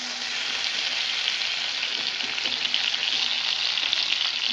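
Shrimp frying in mustard oil, a continuous close hissing sizzle with fine crackling that stays steady and slightly builds toward the end.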